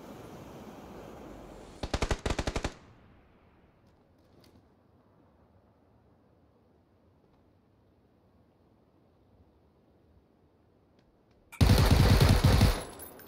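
Two loud gunshot bursts ring out in PlayerUnknown's Battlegrounds, one early and one near the end, with a quiet stretch of faint ambient noise between them.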